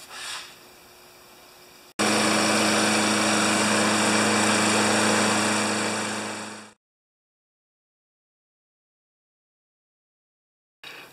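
A 29-year-old Rally electric start lawn mower engine catches after a faint hum and runs loud and steady for about five seconds, then winds down and cuts to silence.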